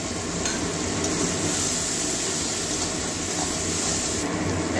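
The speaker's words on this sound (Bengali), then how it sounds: "এবারে জল দিয়ে মশলাটা একটু কষিয়ে নেব।" Spice paste sautéing with a splash of water in a pan, a steady close hiss and bubbling sizzle with faint stirring scrapes, continuous and even throughout.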